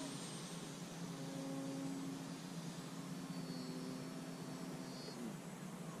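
An RC biplane built from foam board and 3D printed parts flies with its electric motor at full throttle, a steady distant droning whine holding throughout with a slight pitch shift near the end.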